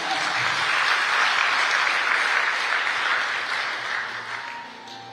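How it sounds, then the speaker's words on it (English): Audience at a freight forwarders' association convention applauding a keynote speaker, a steady, full wash of many hands clapping for several seconds before tapering off slightly, with no talk over it. "A round of applause, please."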